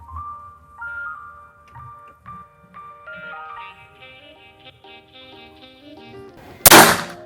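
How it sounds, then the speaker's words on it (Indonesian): A new PCP air rifle fires a single sharp, loud shot near the end, following several seconds of tonal background music. "Tembakan terakhir."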